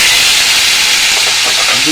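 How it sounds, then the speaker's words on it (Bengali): Boiled potato and pointed gourd tipped into a hot tempering of oil and dried red chilli give a loud, close, continuous steamy hiss that fills the short moment, with faint voice traces near the end. "এই আলু পটল সেদ্ধ করে রেখেছিলাম সেটা এই ফোড়নেতে ঢেলে দেবো"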